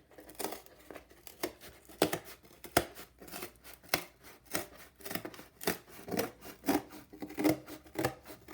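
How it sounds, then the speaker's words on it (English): Scissors cut through cardboard up close, giving a quiet, uneven run of crisp snips and scraping rasps with short pauses between cuts. "I'm going to cut this first one with scissors."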